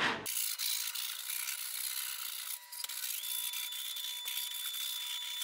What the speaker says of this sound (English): I'm just going to take a sanding block and sand the edge.